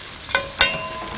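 Onion and a vegetable stock cube hit a hot pot for potato and corn soup, giving a brief sizzle with two short stirring clinks over a soft frying hiss.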